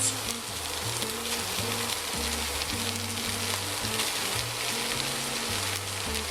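Carrots and onion sweating in a pan for pommes boulangères give a steady, soft sizzle and frying crackle, close and continuous, with a low tonal hum running beneath and no talking.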